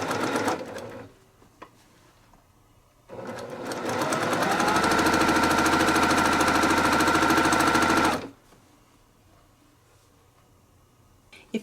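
Sewing machine stitching a Santa table runner, a steady fast mechanical whir with rapid needle clatter that starts, runs evenly for about five seconds, then stops, with quieter handling noises before and after.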